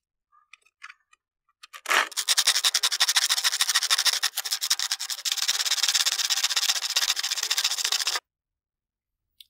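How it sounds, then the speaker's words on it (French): Metal part from a lawn tractor being hand-sanded, a loud close rasping scrub in fast regular back-and-forth strokes lasting about six seconds, preceded by a few faint taps and ending abruptly in silence. "passer 30 secondes à poncer sur là-dessus là"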